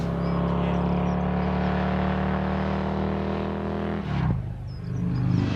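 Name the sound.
old British motorbike engine revving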